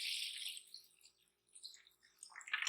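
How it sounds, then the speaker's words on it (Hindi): Water poured from a glass into gram flour batter with chili powder, turmeric and salt, a steady bright pouring rush that fades midway and returns in short splashy bursts, with no talk. "और साथ ही अब मैं इसके अंदर 3 गिलास पानी डालूंगी।"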